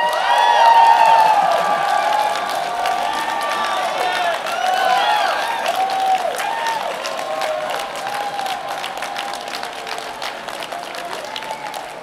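Sustained audience applause fills a large CPAC conference hall, steady and dense for the whole stretch with a few whoops and crowd noise mixed in, holding at a fairly even level throughout.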